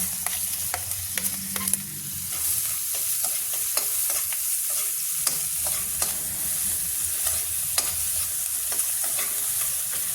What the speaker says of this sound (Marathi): कढईत एक चमचाभर तूप घातलेलं आहे त्याच्यात बारीक चिरलेला कांदा घालून घ्यायचा आहे